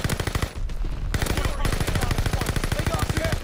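Rapid automatic fire from the MARCO 5 in the Call of Duty: Vanguard shooter, loud close bursts of evenly spaced shots with a short pause near the start, then continuous firing to the end.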